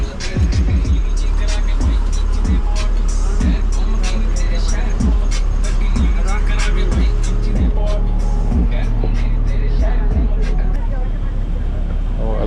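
A crowded local bus climbing the curvy mountain road from Kalka to Shimla, its engine droning loudly and steadily throughout, with repeated knocks and rattles from the cabin.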